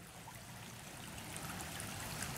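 Creek water flows steadily below a bank, a soft continuous rushing trickle that rises slightly toward the end, with no voices.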